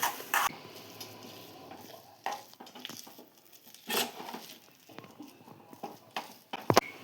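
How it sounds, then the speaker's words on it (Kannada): Homemade masala for kachori filling being fried and stirred, a light sizzle under irregular spoon scrapes and knocks against the pan, close and uneven, with no talking. "ಎಲ್ಲವನ್ನು ಹಾಕಿ ಚೆನ್ನಾಗಿ ಫ್ರೈ ಮಾಡ್ಕೊಳ್ಳೋಣ ಫ್ರೆಂಡ್ಸ್."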